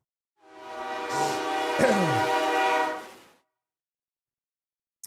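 A train horn sounds as one sustained, harmonically rich blast of about three seconds, rising in and fading out against near silence.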